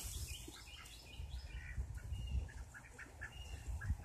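Ducks quack and chatter faintly in a backyard flock, with scattered calls and chirps over a quiet outdoor background and no speech.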